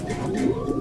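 A champion old-bird racing pigeon from Tacloban, Leyte gives a short, close, low coo that is steady and fairly loud, with no talking.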